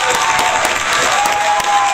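Applause from a debate audience after an opening statement in an online English lesson, steady dense clapping that fills the short stretch at moderate loudness with no voices over it.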